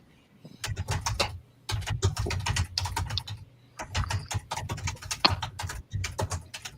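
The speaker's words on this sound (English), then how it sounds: "he's beating that keyboard like it owes him money" Hard, fast typing on a computer keyboard, loud close clacking in dense bursts separated by short pauses, with heavy thumps mixed into the keystrokes.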